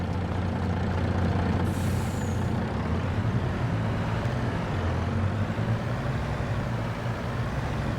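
A truck in Farming Simulator 22 moves near an unload silo at a grain bin site, giving a steady low engine rumble with a brief hissing air-brake release early on, close and without talk.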